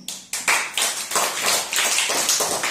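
Children at a school celebration meal clap together loudly, with a burst of rapid, overlapping claps that builds and keeps a steady, dense rhythm close by.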